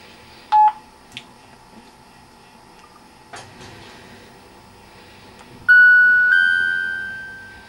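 A Philips X710 mobile phone powers on: a couple of short beeps and clicks, then a loud, bright chiming startup melody of sustained tones that slowly fades out.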